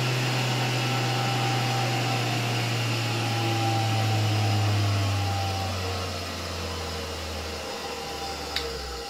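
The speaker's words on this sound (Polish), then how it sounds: "Odkurzacz już całkiem fajnie zaczyna zasysać powietrze." Vacuum cleaner powered through a 1963 ELTRA P216 autotransformer at reduced voltage, a steady motor drone and airflow hiss that sags lower in pitch and loudness toward the end, running alone without talk.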